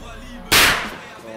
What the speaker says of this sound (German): So, und zu guter Letzt der Super Böller 2 von Weco.